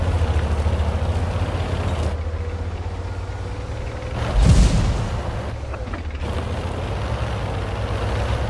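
A Churchill I tank's main gun fires in a tank battle video game, one deep, heavy boom rising out of a continuous low engine rumble and fading quickly.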